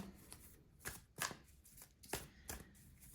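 Oracle cards being shuffled by hand, a quiet series of soft papery riffles and slaps coming in irregular bursts, close to the microphone with no talking.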